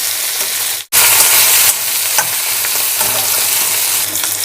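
Spiny gourd (boda kakarakaya) slices fry in a pan with a loud, steady broadband sizzle, broken by a brief dropout near the start, with faint stirring scrapes scattered through.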